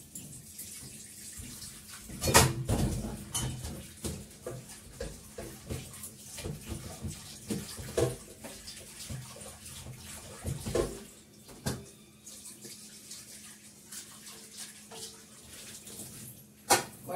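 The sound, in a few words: washing a wok under running tap water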